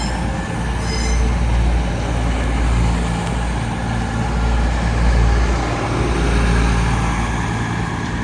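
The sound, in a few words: passenger train at Derby station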